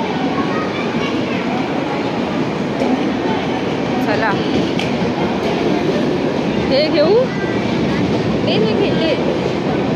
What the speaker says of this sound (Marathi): आमची ट्रेन आली आहे